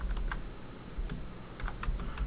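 A folder name is typed on a computer keyboard, giving a short run of close, quiet key clicks at an uneven pace.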